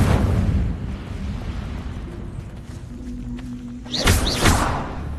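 Incendio fire spell cast in the video game Hogwarts Legacy: a rushing burst of flame whooshes up at the start, then after a lull a brighter double flare of crackling fire rises loudly near the end.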